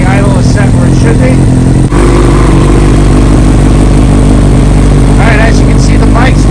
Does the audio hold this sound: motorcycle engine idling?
yes